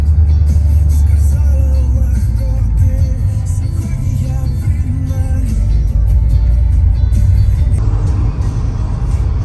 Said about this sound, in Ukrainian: щось там дуже повільно вантажівка їде зараз